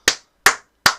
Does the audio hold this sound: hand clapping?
yes